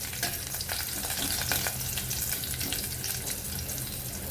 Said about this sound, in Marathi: छान लसूण थोडंसं लालसर होईपर्यंत भाजून घ्यायचं